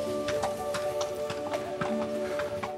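Hooves of a spirited horse clip-clop in a steady, fairly close rhythm at a Puy du Fou show setting, repeated distinct strikes with a background hum and no talk.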